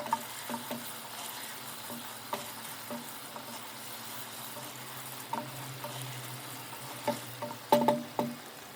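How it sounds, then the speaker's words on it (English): Steady sizzling of tomato paste frying in a pot for Nigerian jollof rice, with occasional scrapes and clinks of a spoon stirring, close and continuous. "After frying the tomato paste"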